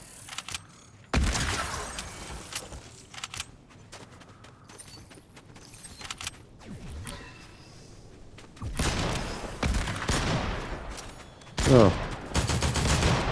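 Gunfire rattles in Fortnite in bursts of rapid shots, loud volleys at the start and again near the end, separated by quieter stretches with scattered shots and a brief exclamation.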